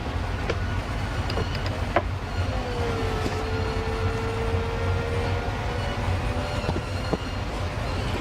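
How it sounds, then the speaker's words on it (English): The power soft top of a 2018 Mercedes-AMG GT Roadster convertible cycles open and closed, a steady mechanical whirring drone punctuated by a few sharp clicks and latch knocks. "this top will open and close while you're driving"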